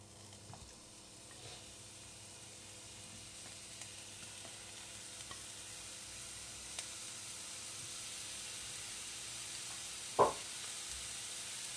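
Chopped capsicum, green chilli, cabbage and carrot sizzle steadily in a pan for a chicken momo filling, a soft continuous frying hiss with a few faint stirring scrapes and one sharp clink near the end.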